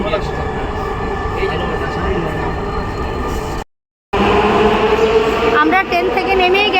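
A Dhaka metro rail train bound for Uttara North runs with a loud, steady rumble and whine from inside the carriage, a brief dropout midway, then wheel squeals and rising tones; a voice talks over it.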